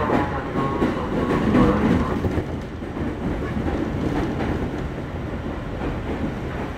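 A commuter train bound for Jakarta Kota station rolls along with a steady loud rumble and wheel noise heard from inside the carriage, faint clicking over rail joints and no voices.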